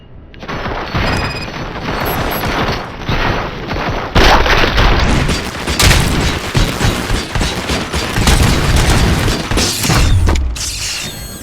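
Loud, dense gunfire and heavy booms from the Robocop Rogue City video game, with mechanical clatter and overlapping blasts running steadily throughout.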